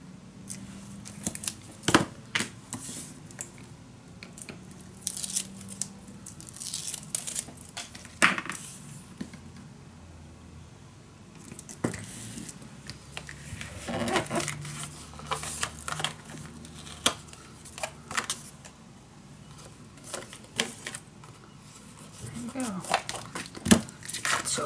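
Double-sided tape is pulled, peeled and handled for a paper crafting project, with scattered sharp crinkles, rips and snips in irregular bursts, close and fairly quiet, while a person talks in the background.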